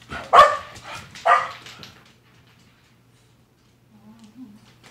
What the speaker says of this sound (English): to work on the barking next